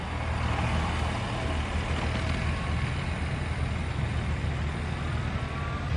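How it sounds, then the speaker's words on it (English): Pickup truck approaching across a pasture, a steady low engine rumble with broad road noise holding at a constant level throughout. "you can hear his truck coming up there behind me"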